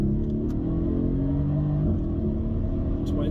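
A Mercedes AMG car accelerates hard from inside the cabin, its engine note climbing steadily through a strong, continuous rumble with a rising tone.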